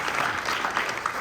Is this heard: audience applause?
yes